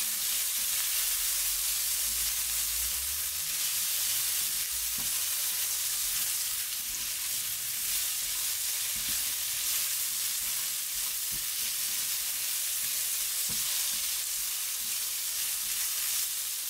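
Orange beef and walnut stir fry is mixed in a pan, with a continuous close sizzle and scraping stir strokes against the pan and no voices.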